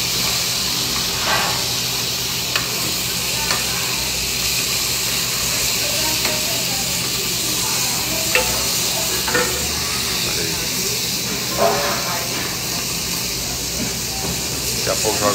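Garlic, seasoning and broth frying in a pan in a restaurant kitchen: a steady, loud sizzle and hiss with scattered scrapes and clicks as the food is stirred and turned, no voices.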